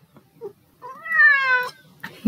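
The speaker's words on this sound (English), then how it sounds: "I'm gonna pick him up so he'll meow" A cat gives one drawn-out, clear meow at close range while being picked up, preceded by faint handling noises and a brief sound at the very end.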